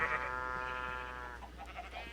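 A single sheep in a farming video game gives a long, wavering bleat, loud and close at first, then trailing off into softer shuffling farm sounds, with no talking.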